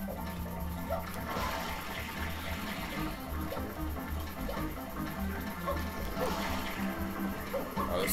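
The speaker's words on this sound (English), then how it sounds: "Better start swimming." Mario swims through water in Super Mario Sunshine during a race, with continuous splashing and sloshing game water sounds at moderate level, lasting for several seconds under background game audio.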